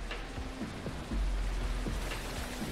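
Rain falls steadily in the horror fishing game What Lives Below, a constant patter with a few soft knocks and ticks scattered through it and no speech.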